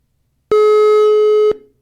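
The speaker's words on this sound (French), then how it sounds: "Nous avons une sonnerie, je ne sais pas ce que c'est." A steady electronic ringing tone with a telephone problem, one sustained buzzy beep lasting about a second that starts and stops abruptly, loud and close with no voices.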